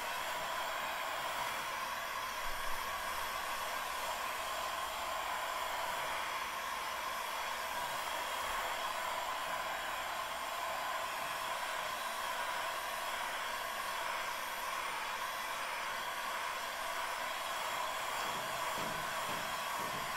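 A heat gun blows hot air to dry acrylic paint on a gelli plate, a loud, steady whooshing roar that runs unbroken and close throughout, with no talking.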